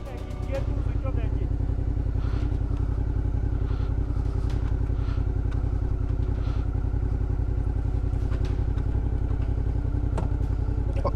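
A motorcycle engine idles close and loud with a steady throbbing pulse as it is shifted into first gear, on a ride through Mansfield high country; a voice speaks over it.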